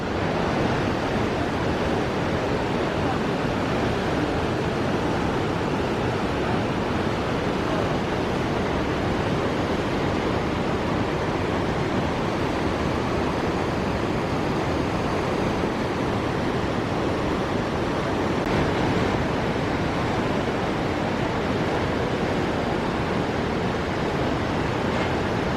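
Powerful continuous roar of Iguazu Falls at the Garganta del Diablo, heard from the walkway near the edge of the cataracts, a loud steady rush of falling water that fills the whole clip with no talk.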